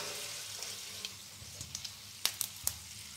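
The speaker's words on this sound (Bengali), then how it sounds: "এই আলুর ফ্রাই কিন্তু মিডিয়াম হিটে করছি" Potato slices fry in oil over medium heat, a steady soft sizzle broken by several sharp crackles and clinks near the end, close and fairly quiet with no voices.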